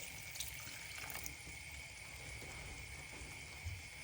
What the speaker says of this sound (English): I'm just going to add in half a cup of water